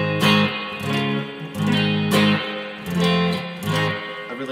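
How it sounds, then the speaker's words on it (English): A Danelectro 59-DC electric guitar played through a Fender DeVille 410 amp, loud strummed chords in a steady repeating rhythm with a full low end and bright jangly top, no voices. "I'm playing it through a Fender DeVille 410."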